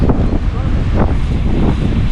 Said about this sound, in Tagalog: Lakas ng alon. Lakas ng hangin eh.